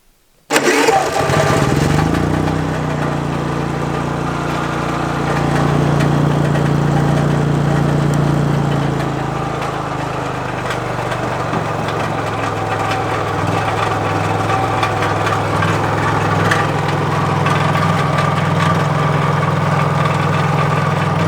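Portable generator cranking to life and settling into a steady economy-mode idle, a loud close continuous hum with a slight swell in the middle and a constant drone for about twenty seconds.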